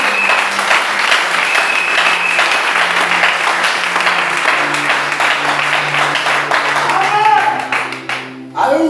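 A church congregation in Gabon bursts into sustained, loud applause and clapping, a dense wash of hands that carries on for several seconds with voices mixed in and a sustained tone beneath, tapering off at the end.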